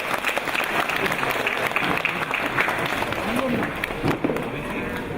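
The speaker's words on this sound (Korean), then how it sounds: "이 두 분에게 여러분 의 감사의 박수 한번 부탁드리겠습니다" An audience applauds at the completion ceremony for a traditional market's modernization in Korea, a steady crackle of many hands clapping, with voices and crowd murmur mixed in as it continues for several seconds.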